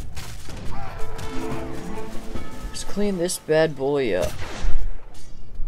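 Cannon fire from Age of Empires 3 gameplay, with booming artillery blasts and gunshot-like bursts mixed into busy battle noise, partly under someone talking in the foreground.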